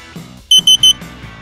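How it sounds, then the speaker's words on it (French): A WG Mini two-axis wearable gimbal gives three short, loud, evenly spaced high beeps as it switches off, over faint background sound. "pour éteindre notre stabilisateur, on va rester appuyé durant 3 secondes jusqu'à entendre 3 bips"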